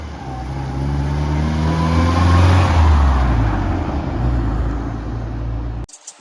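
A Morris Marina 440 Ital on a test drive drones steadily from inside the cabin, its engine note rising and falling with road rumble before cutting off abruptly near the end.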